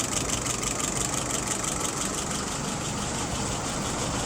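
A car engine idles steadily at around 675 rpm, a continuous even rumble with a faint rhythmic knock, close and constant with no talk.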